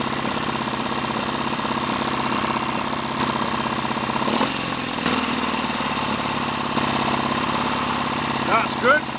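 A Triumph Bonneville motorcycle engine running at a steady idle, close and loud, with a rapid, even mechanical chatter throughout and a couple of brief louder bumps near the end.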